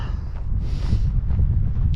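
Gusty wind buffets the microphone in low rumbling surges on a snowy moor under clear skies, with a brief whooshing swell partway through and no voices.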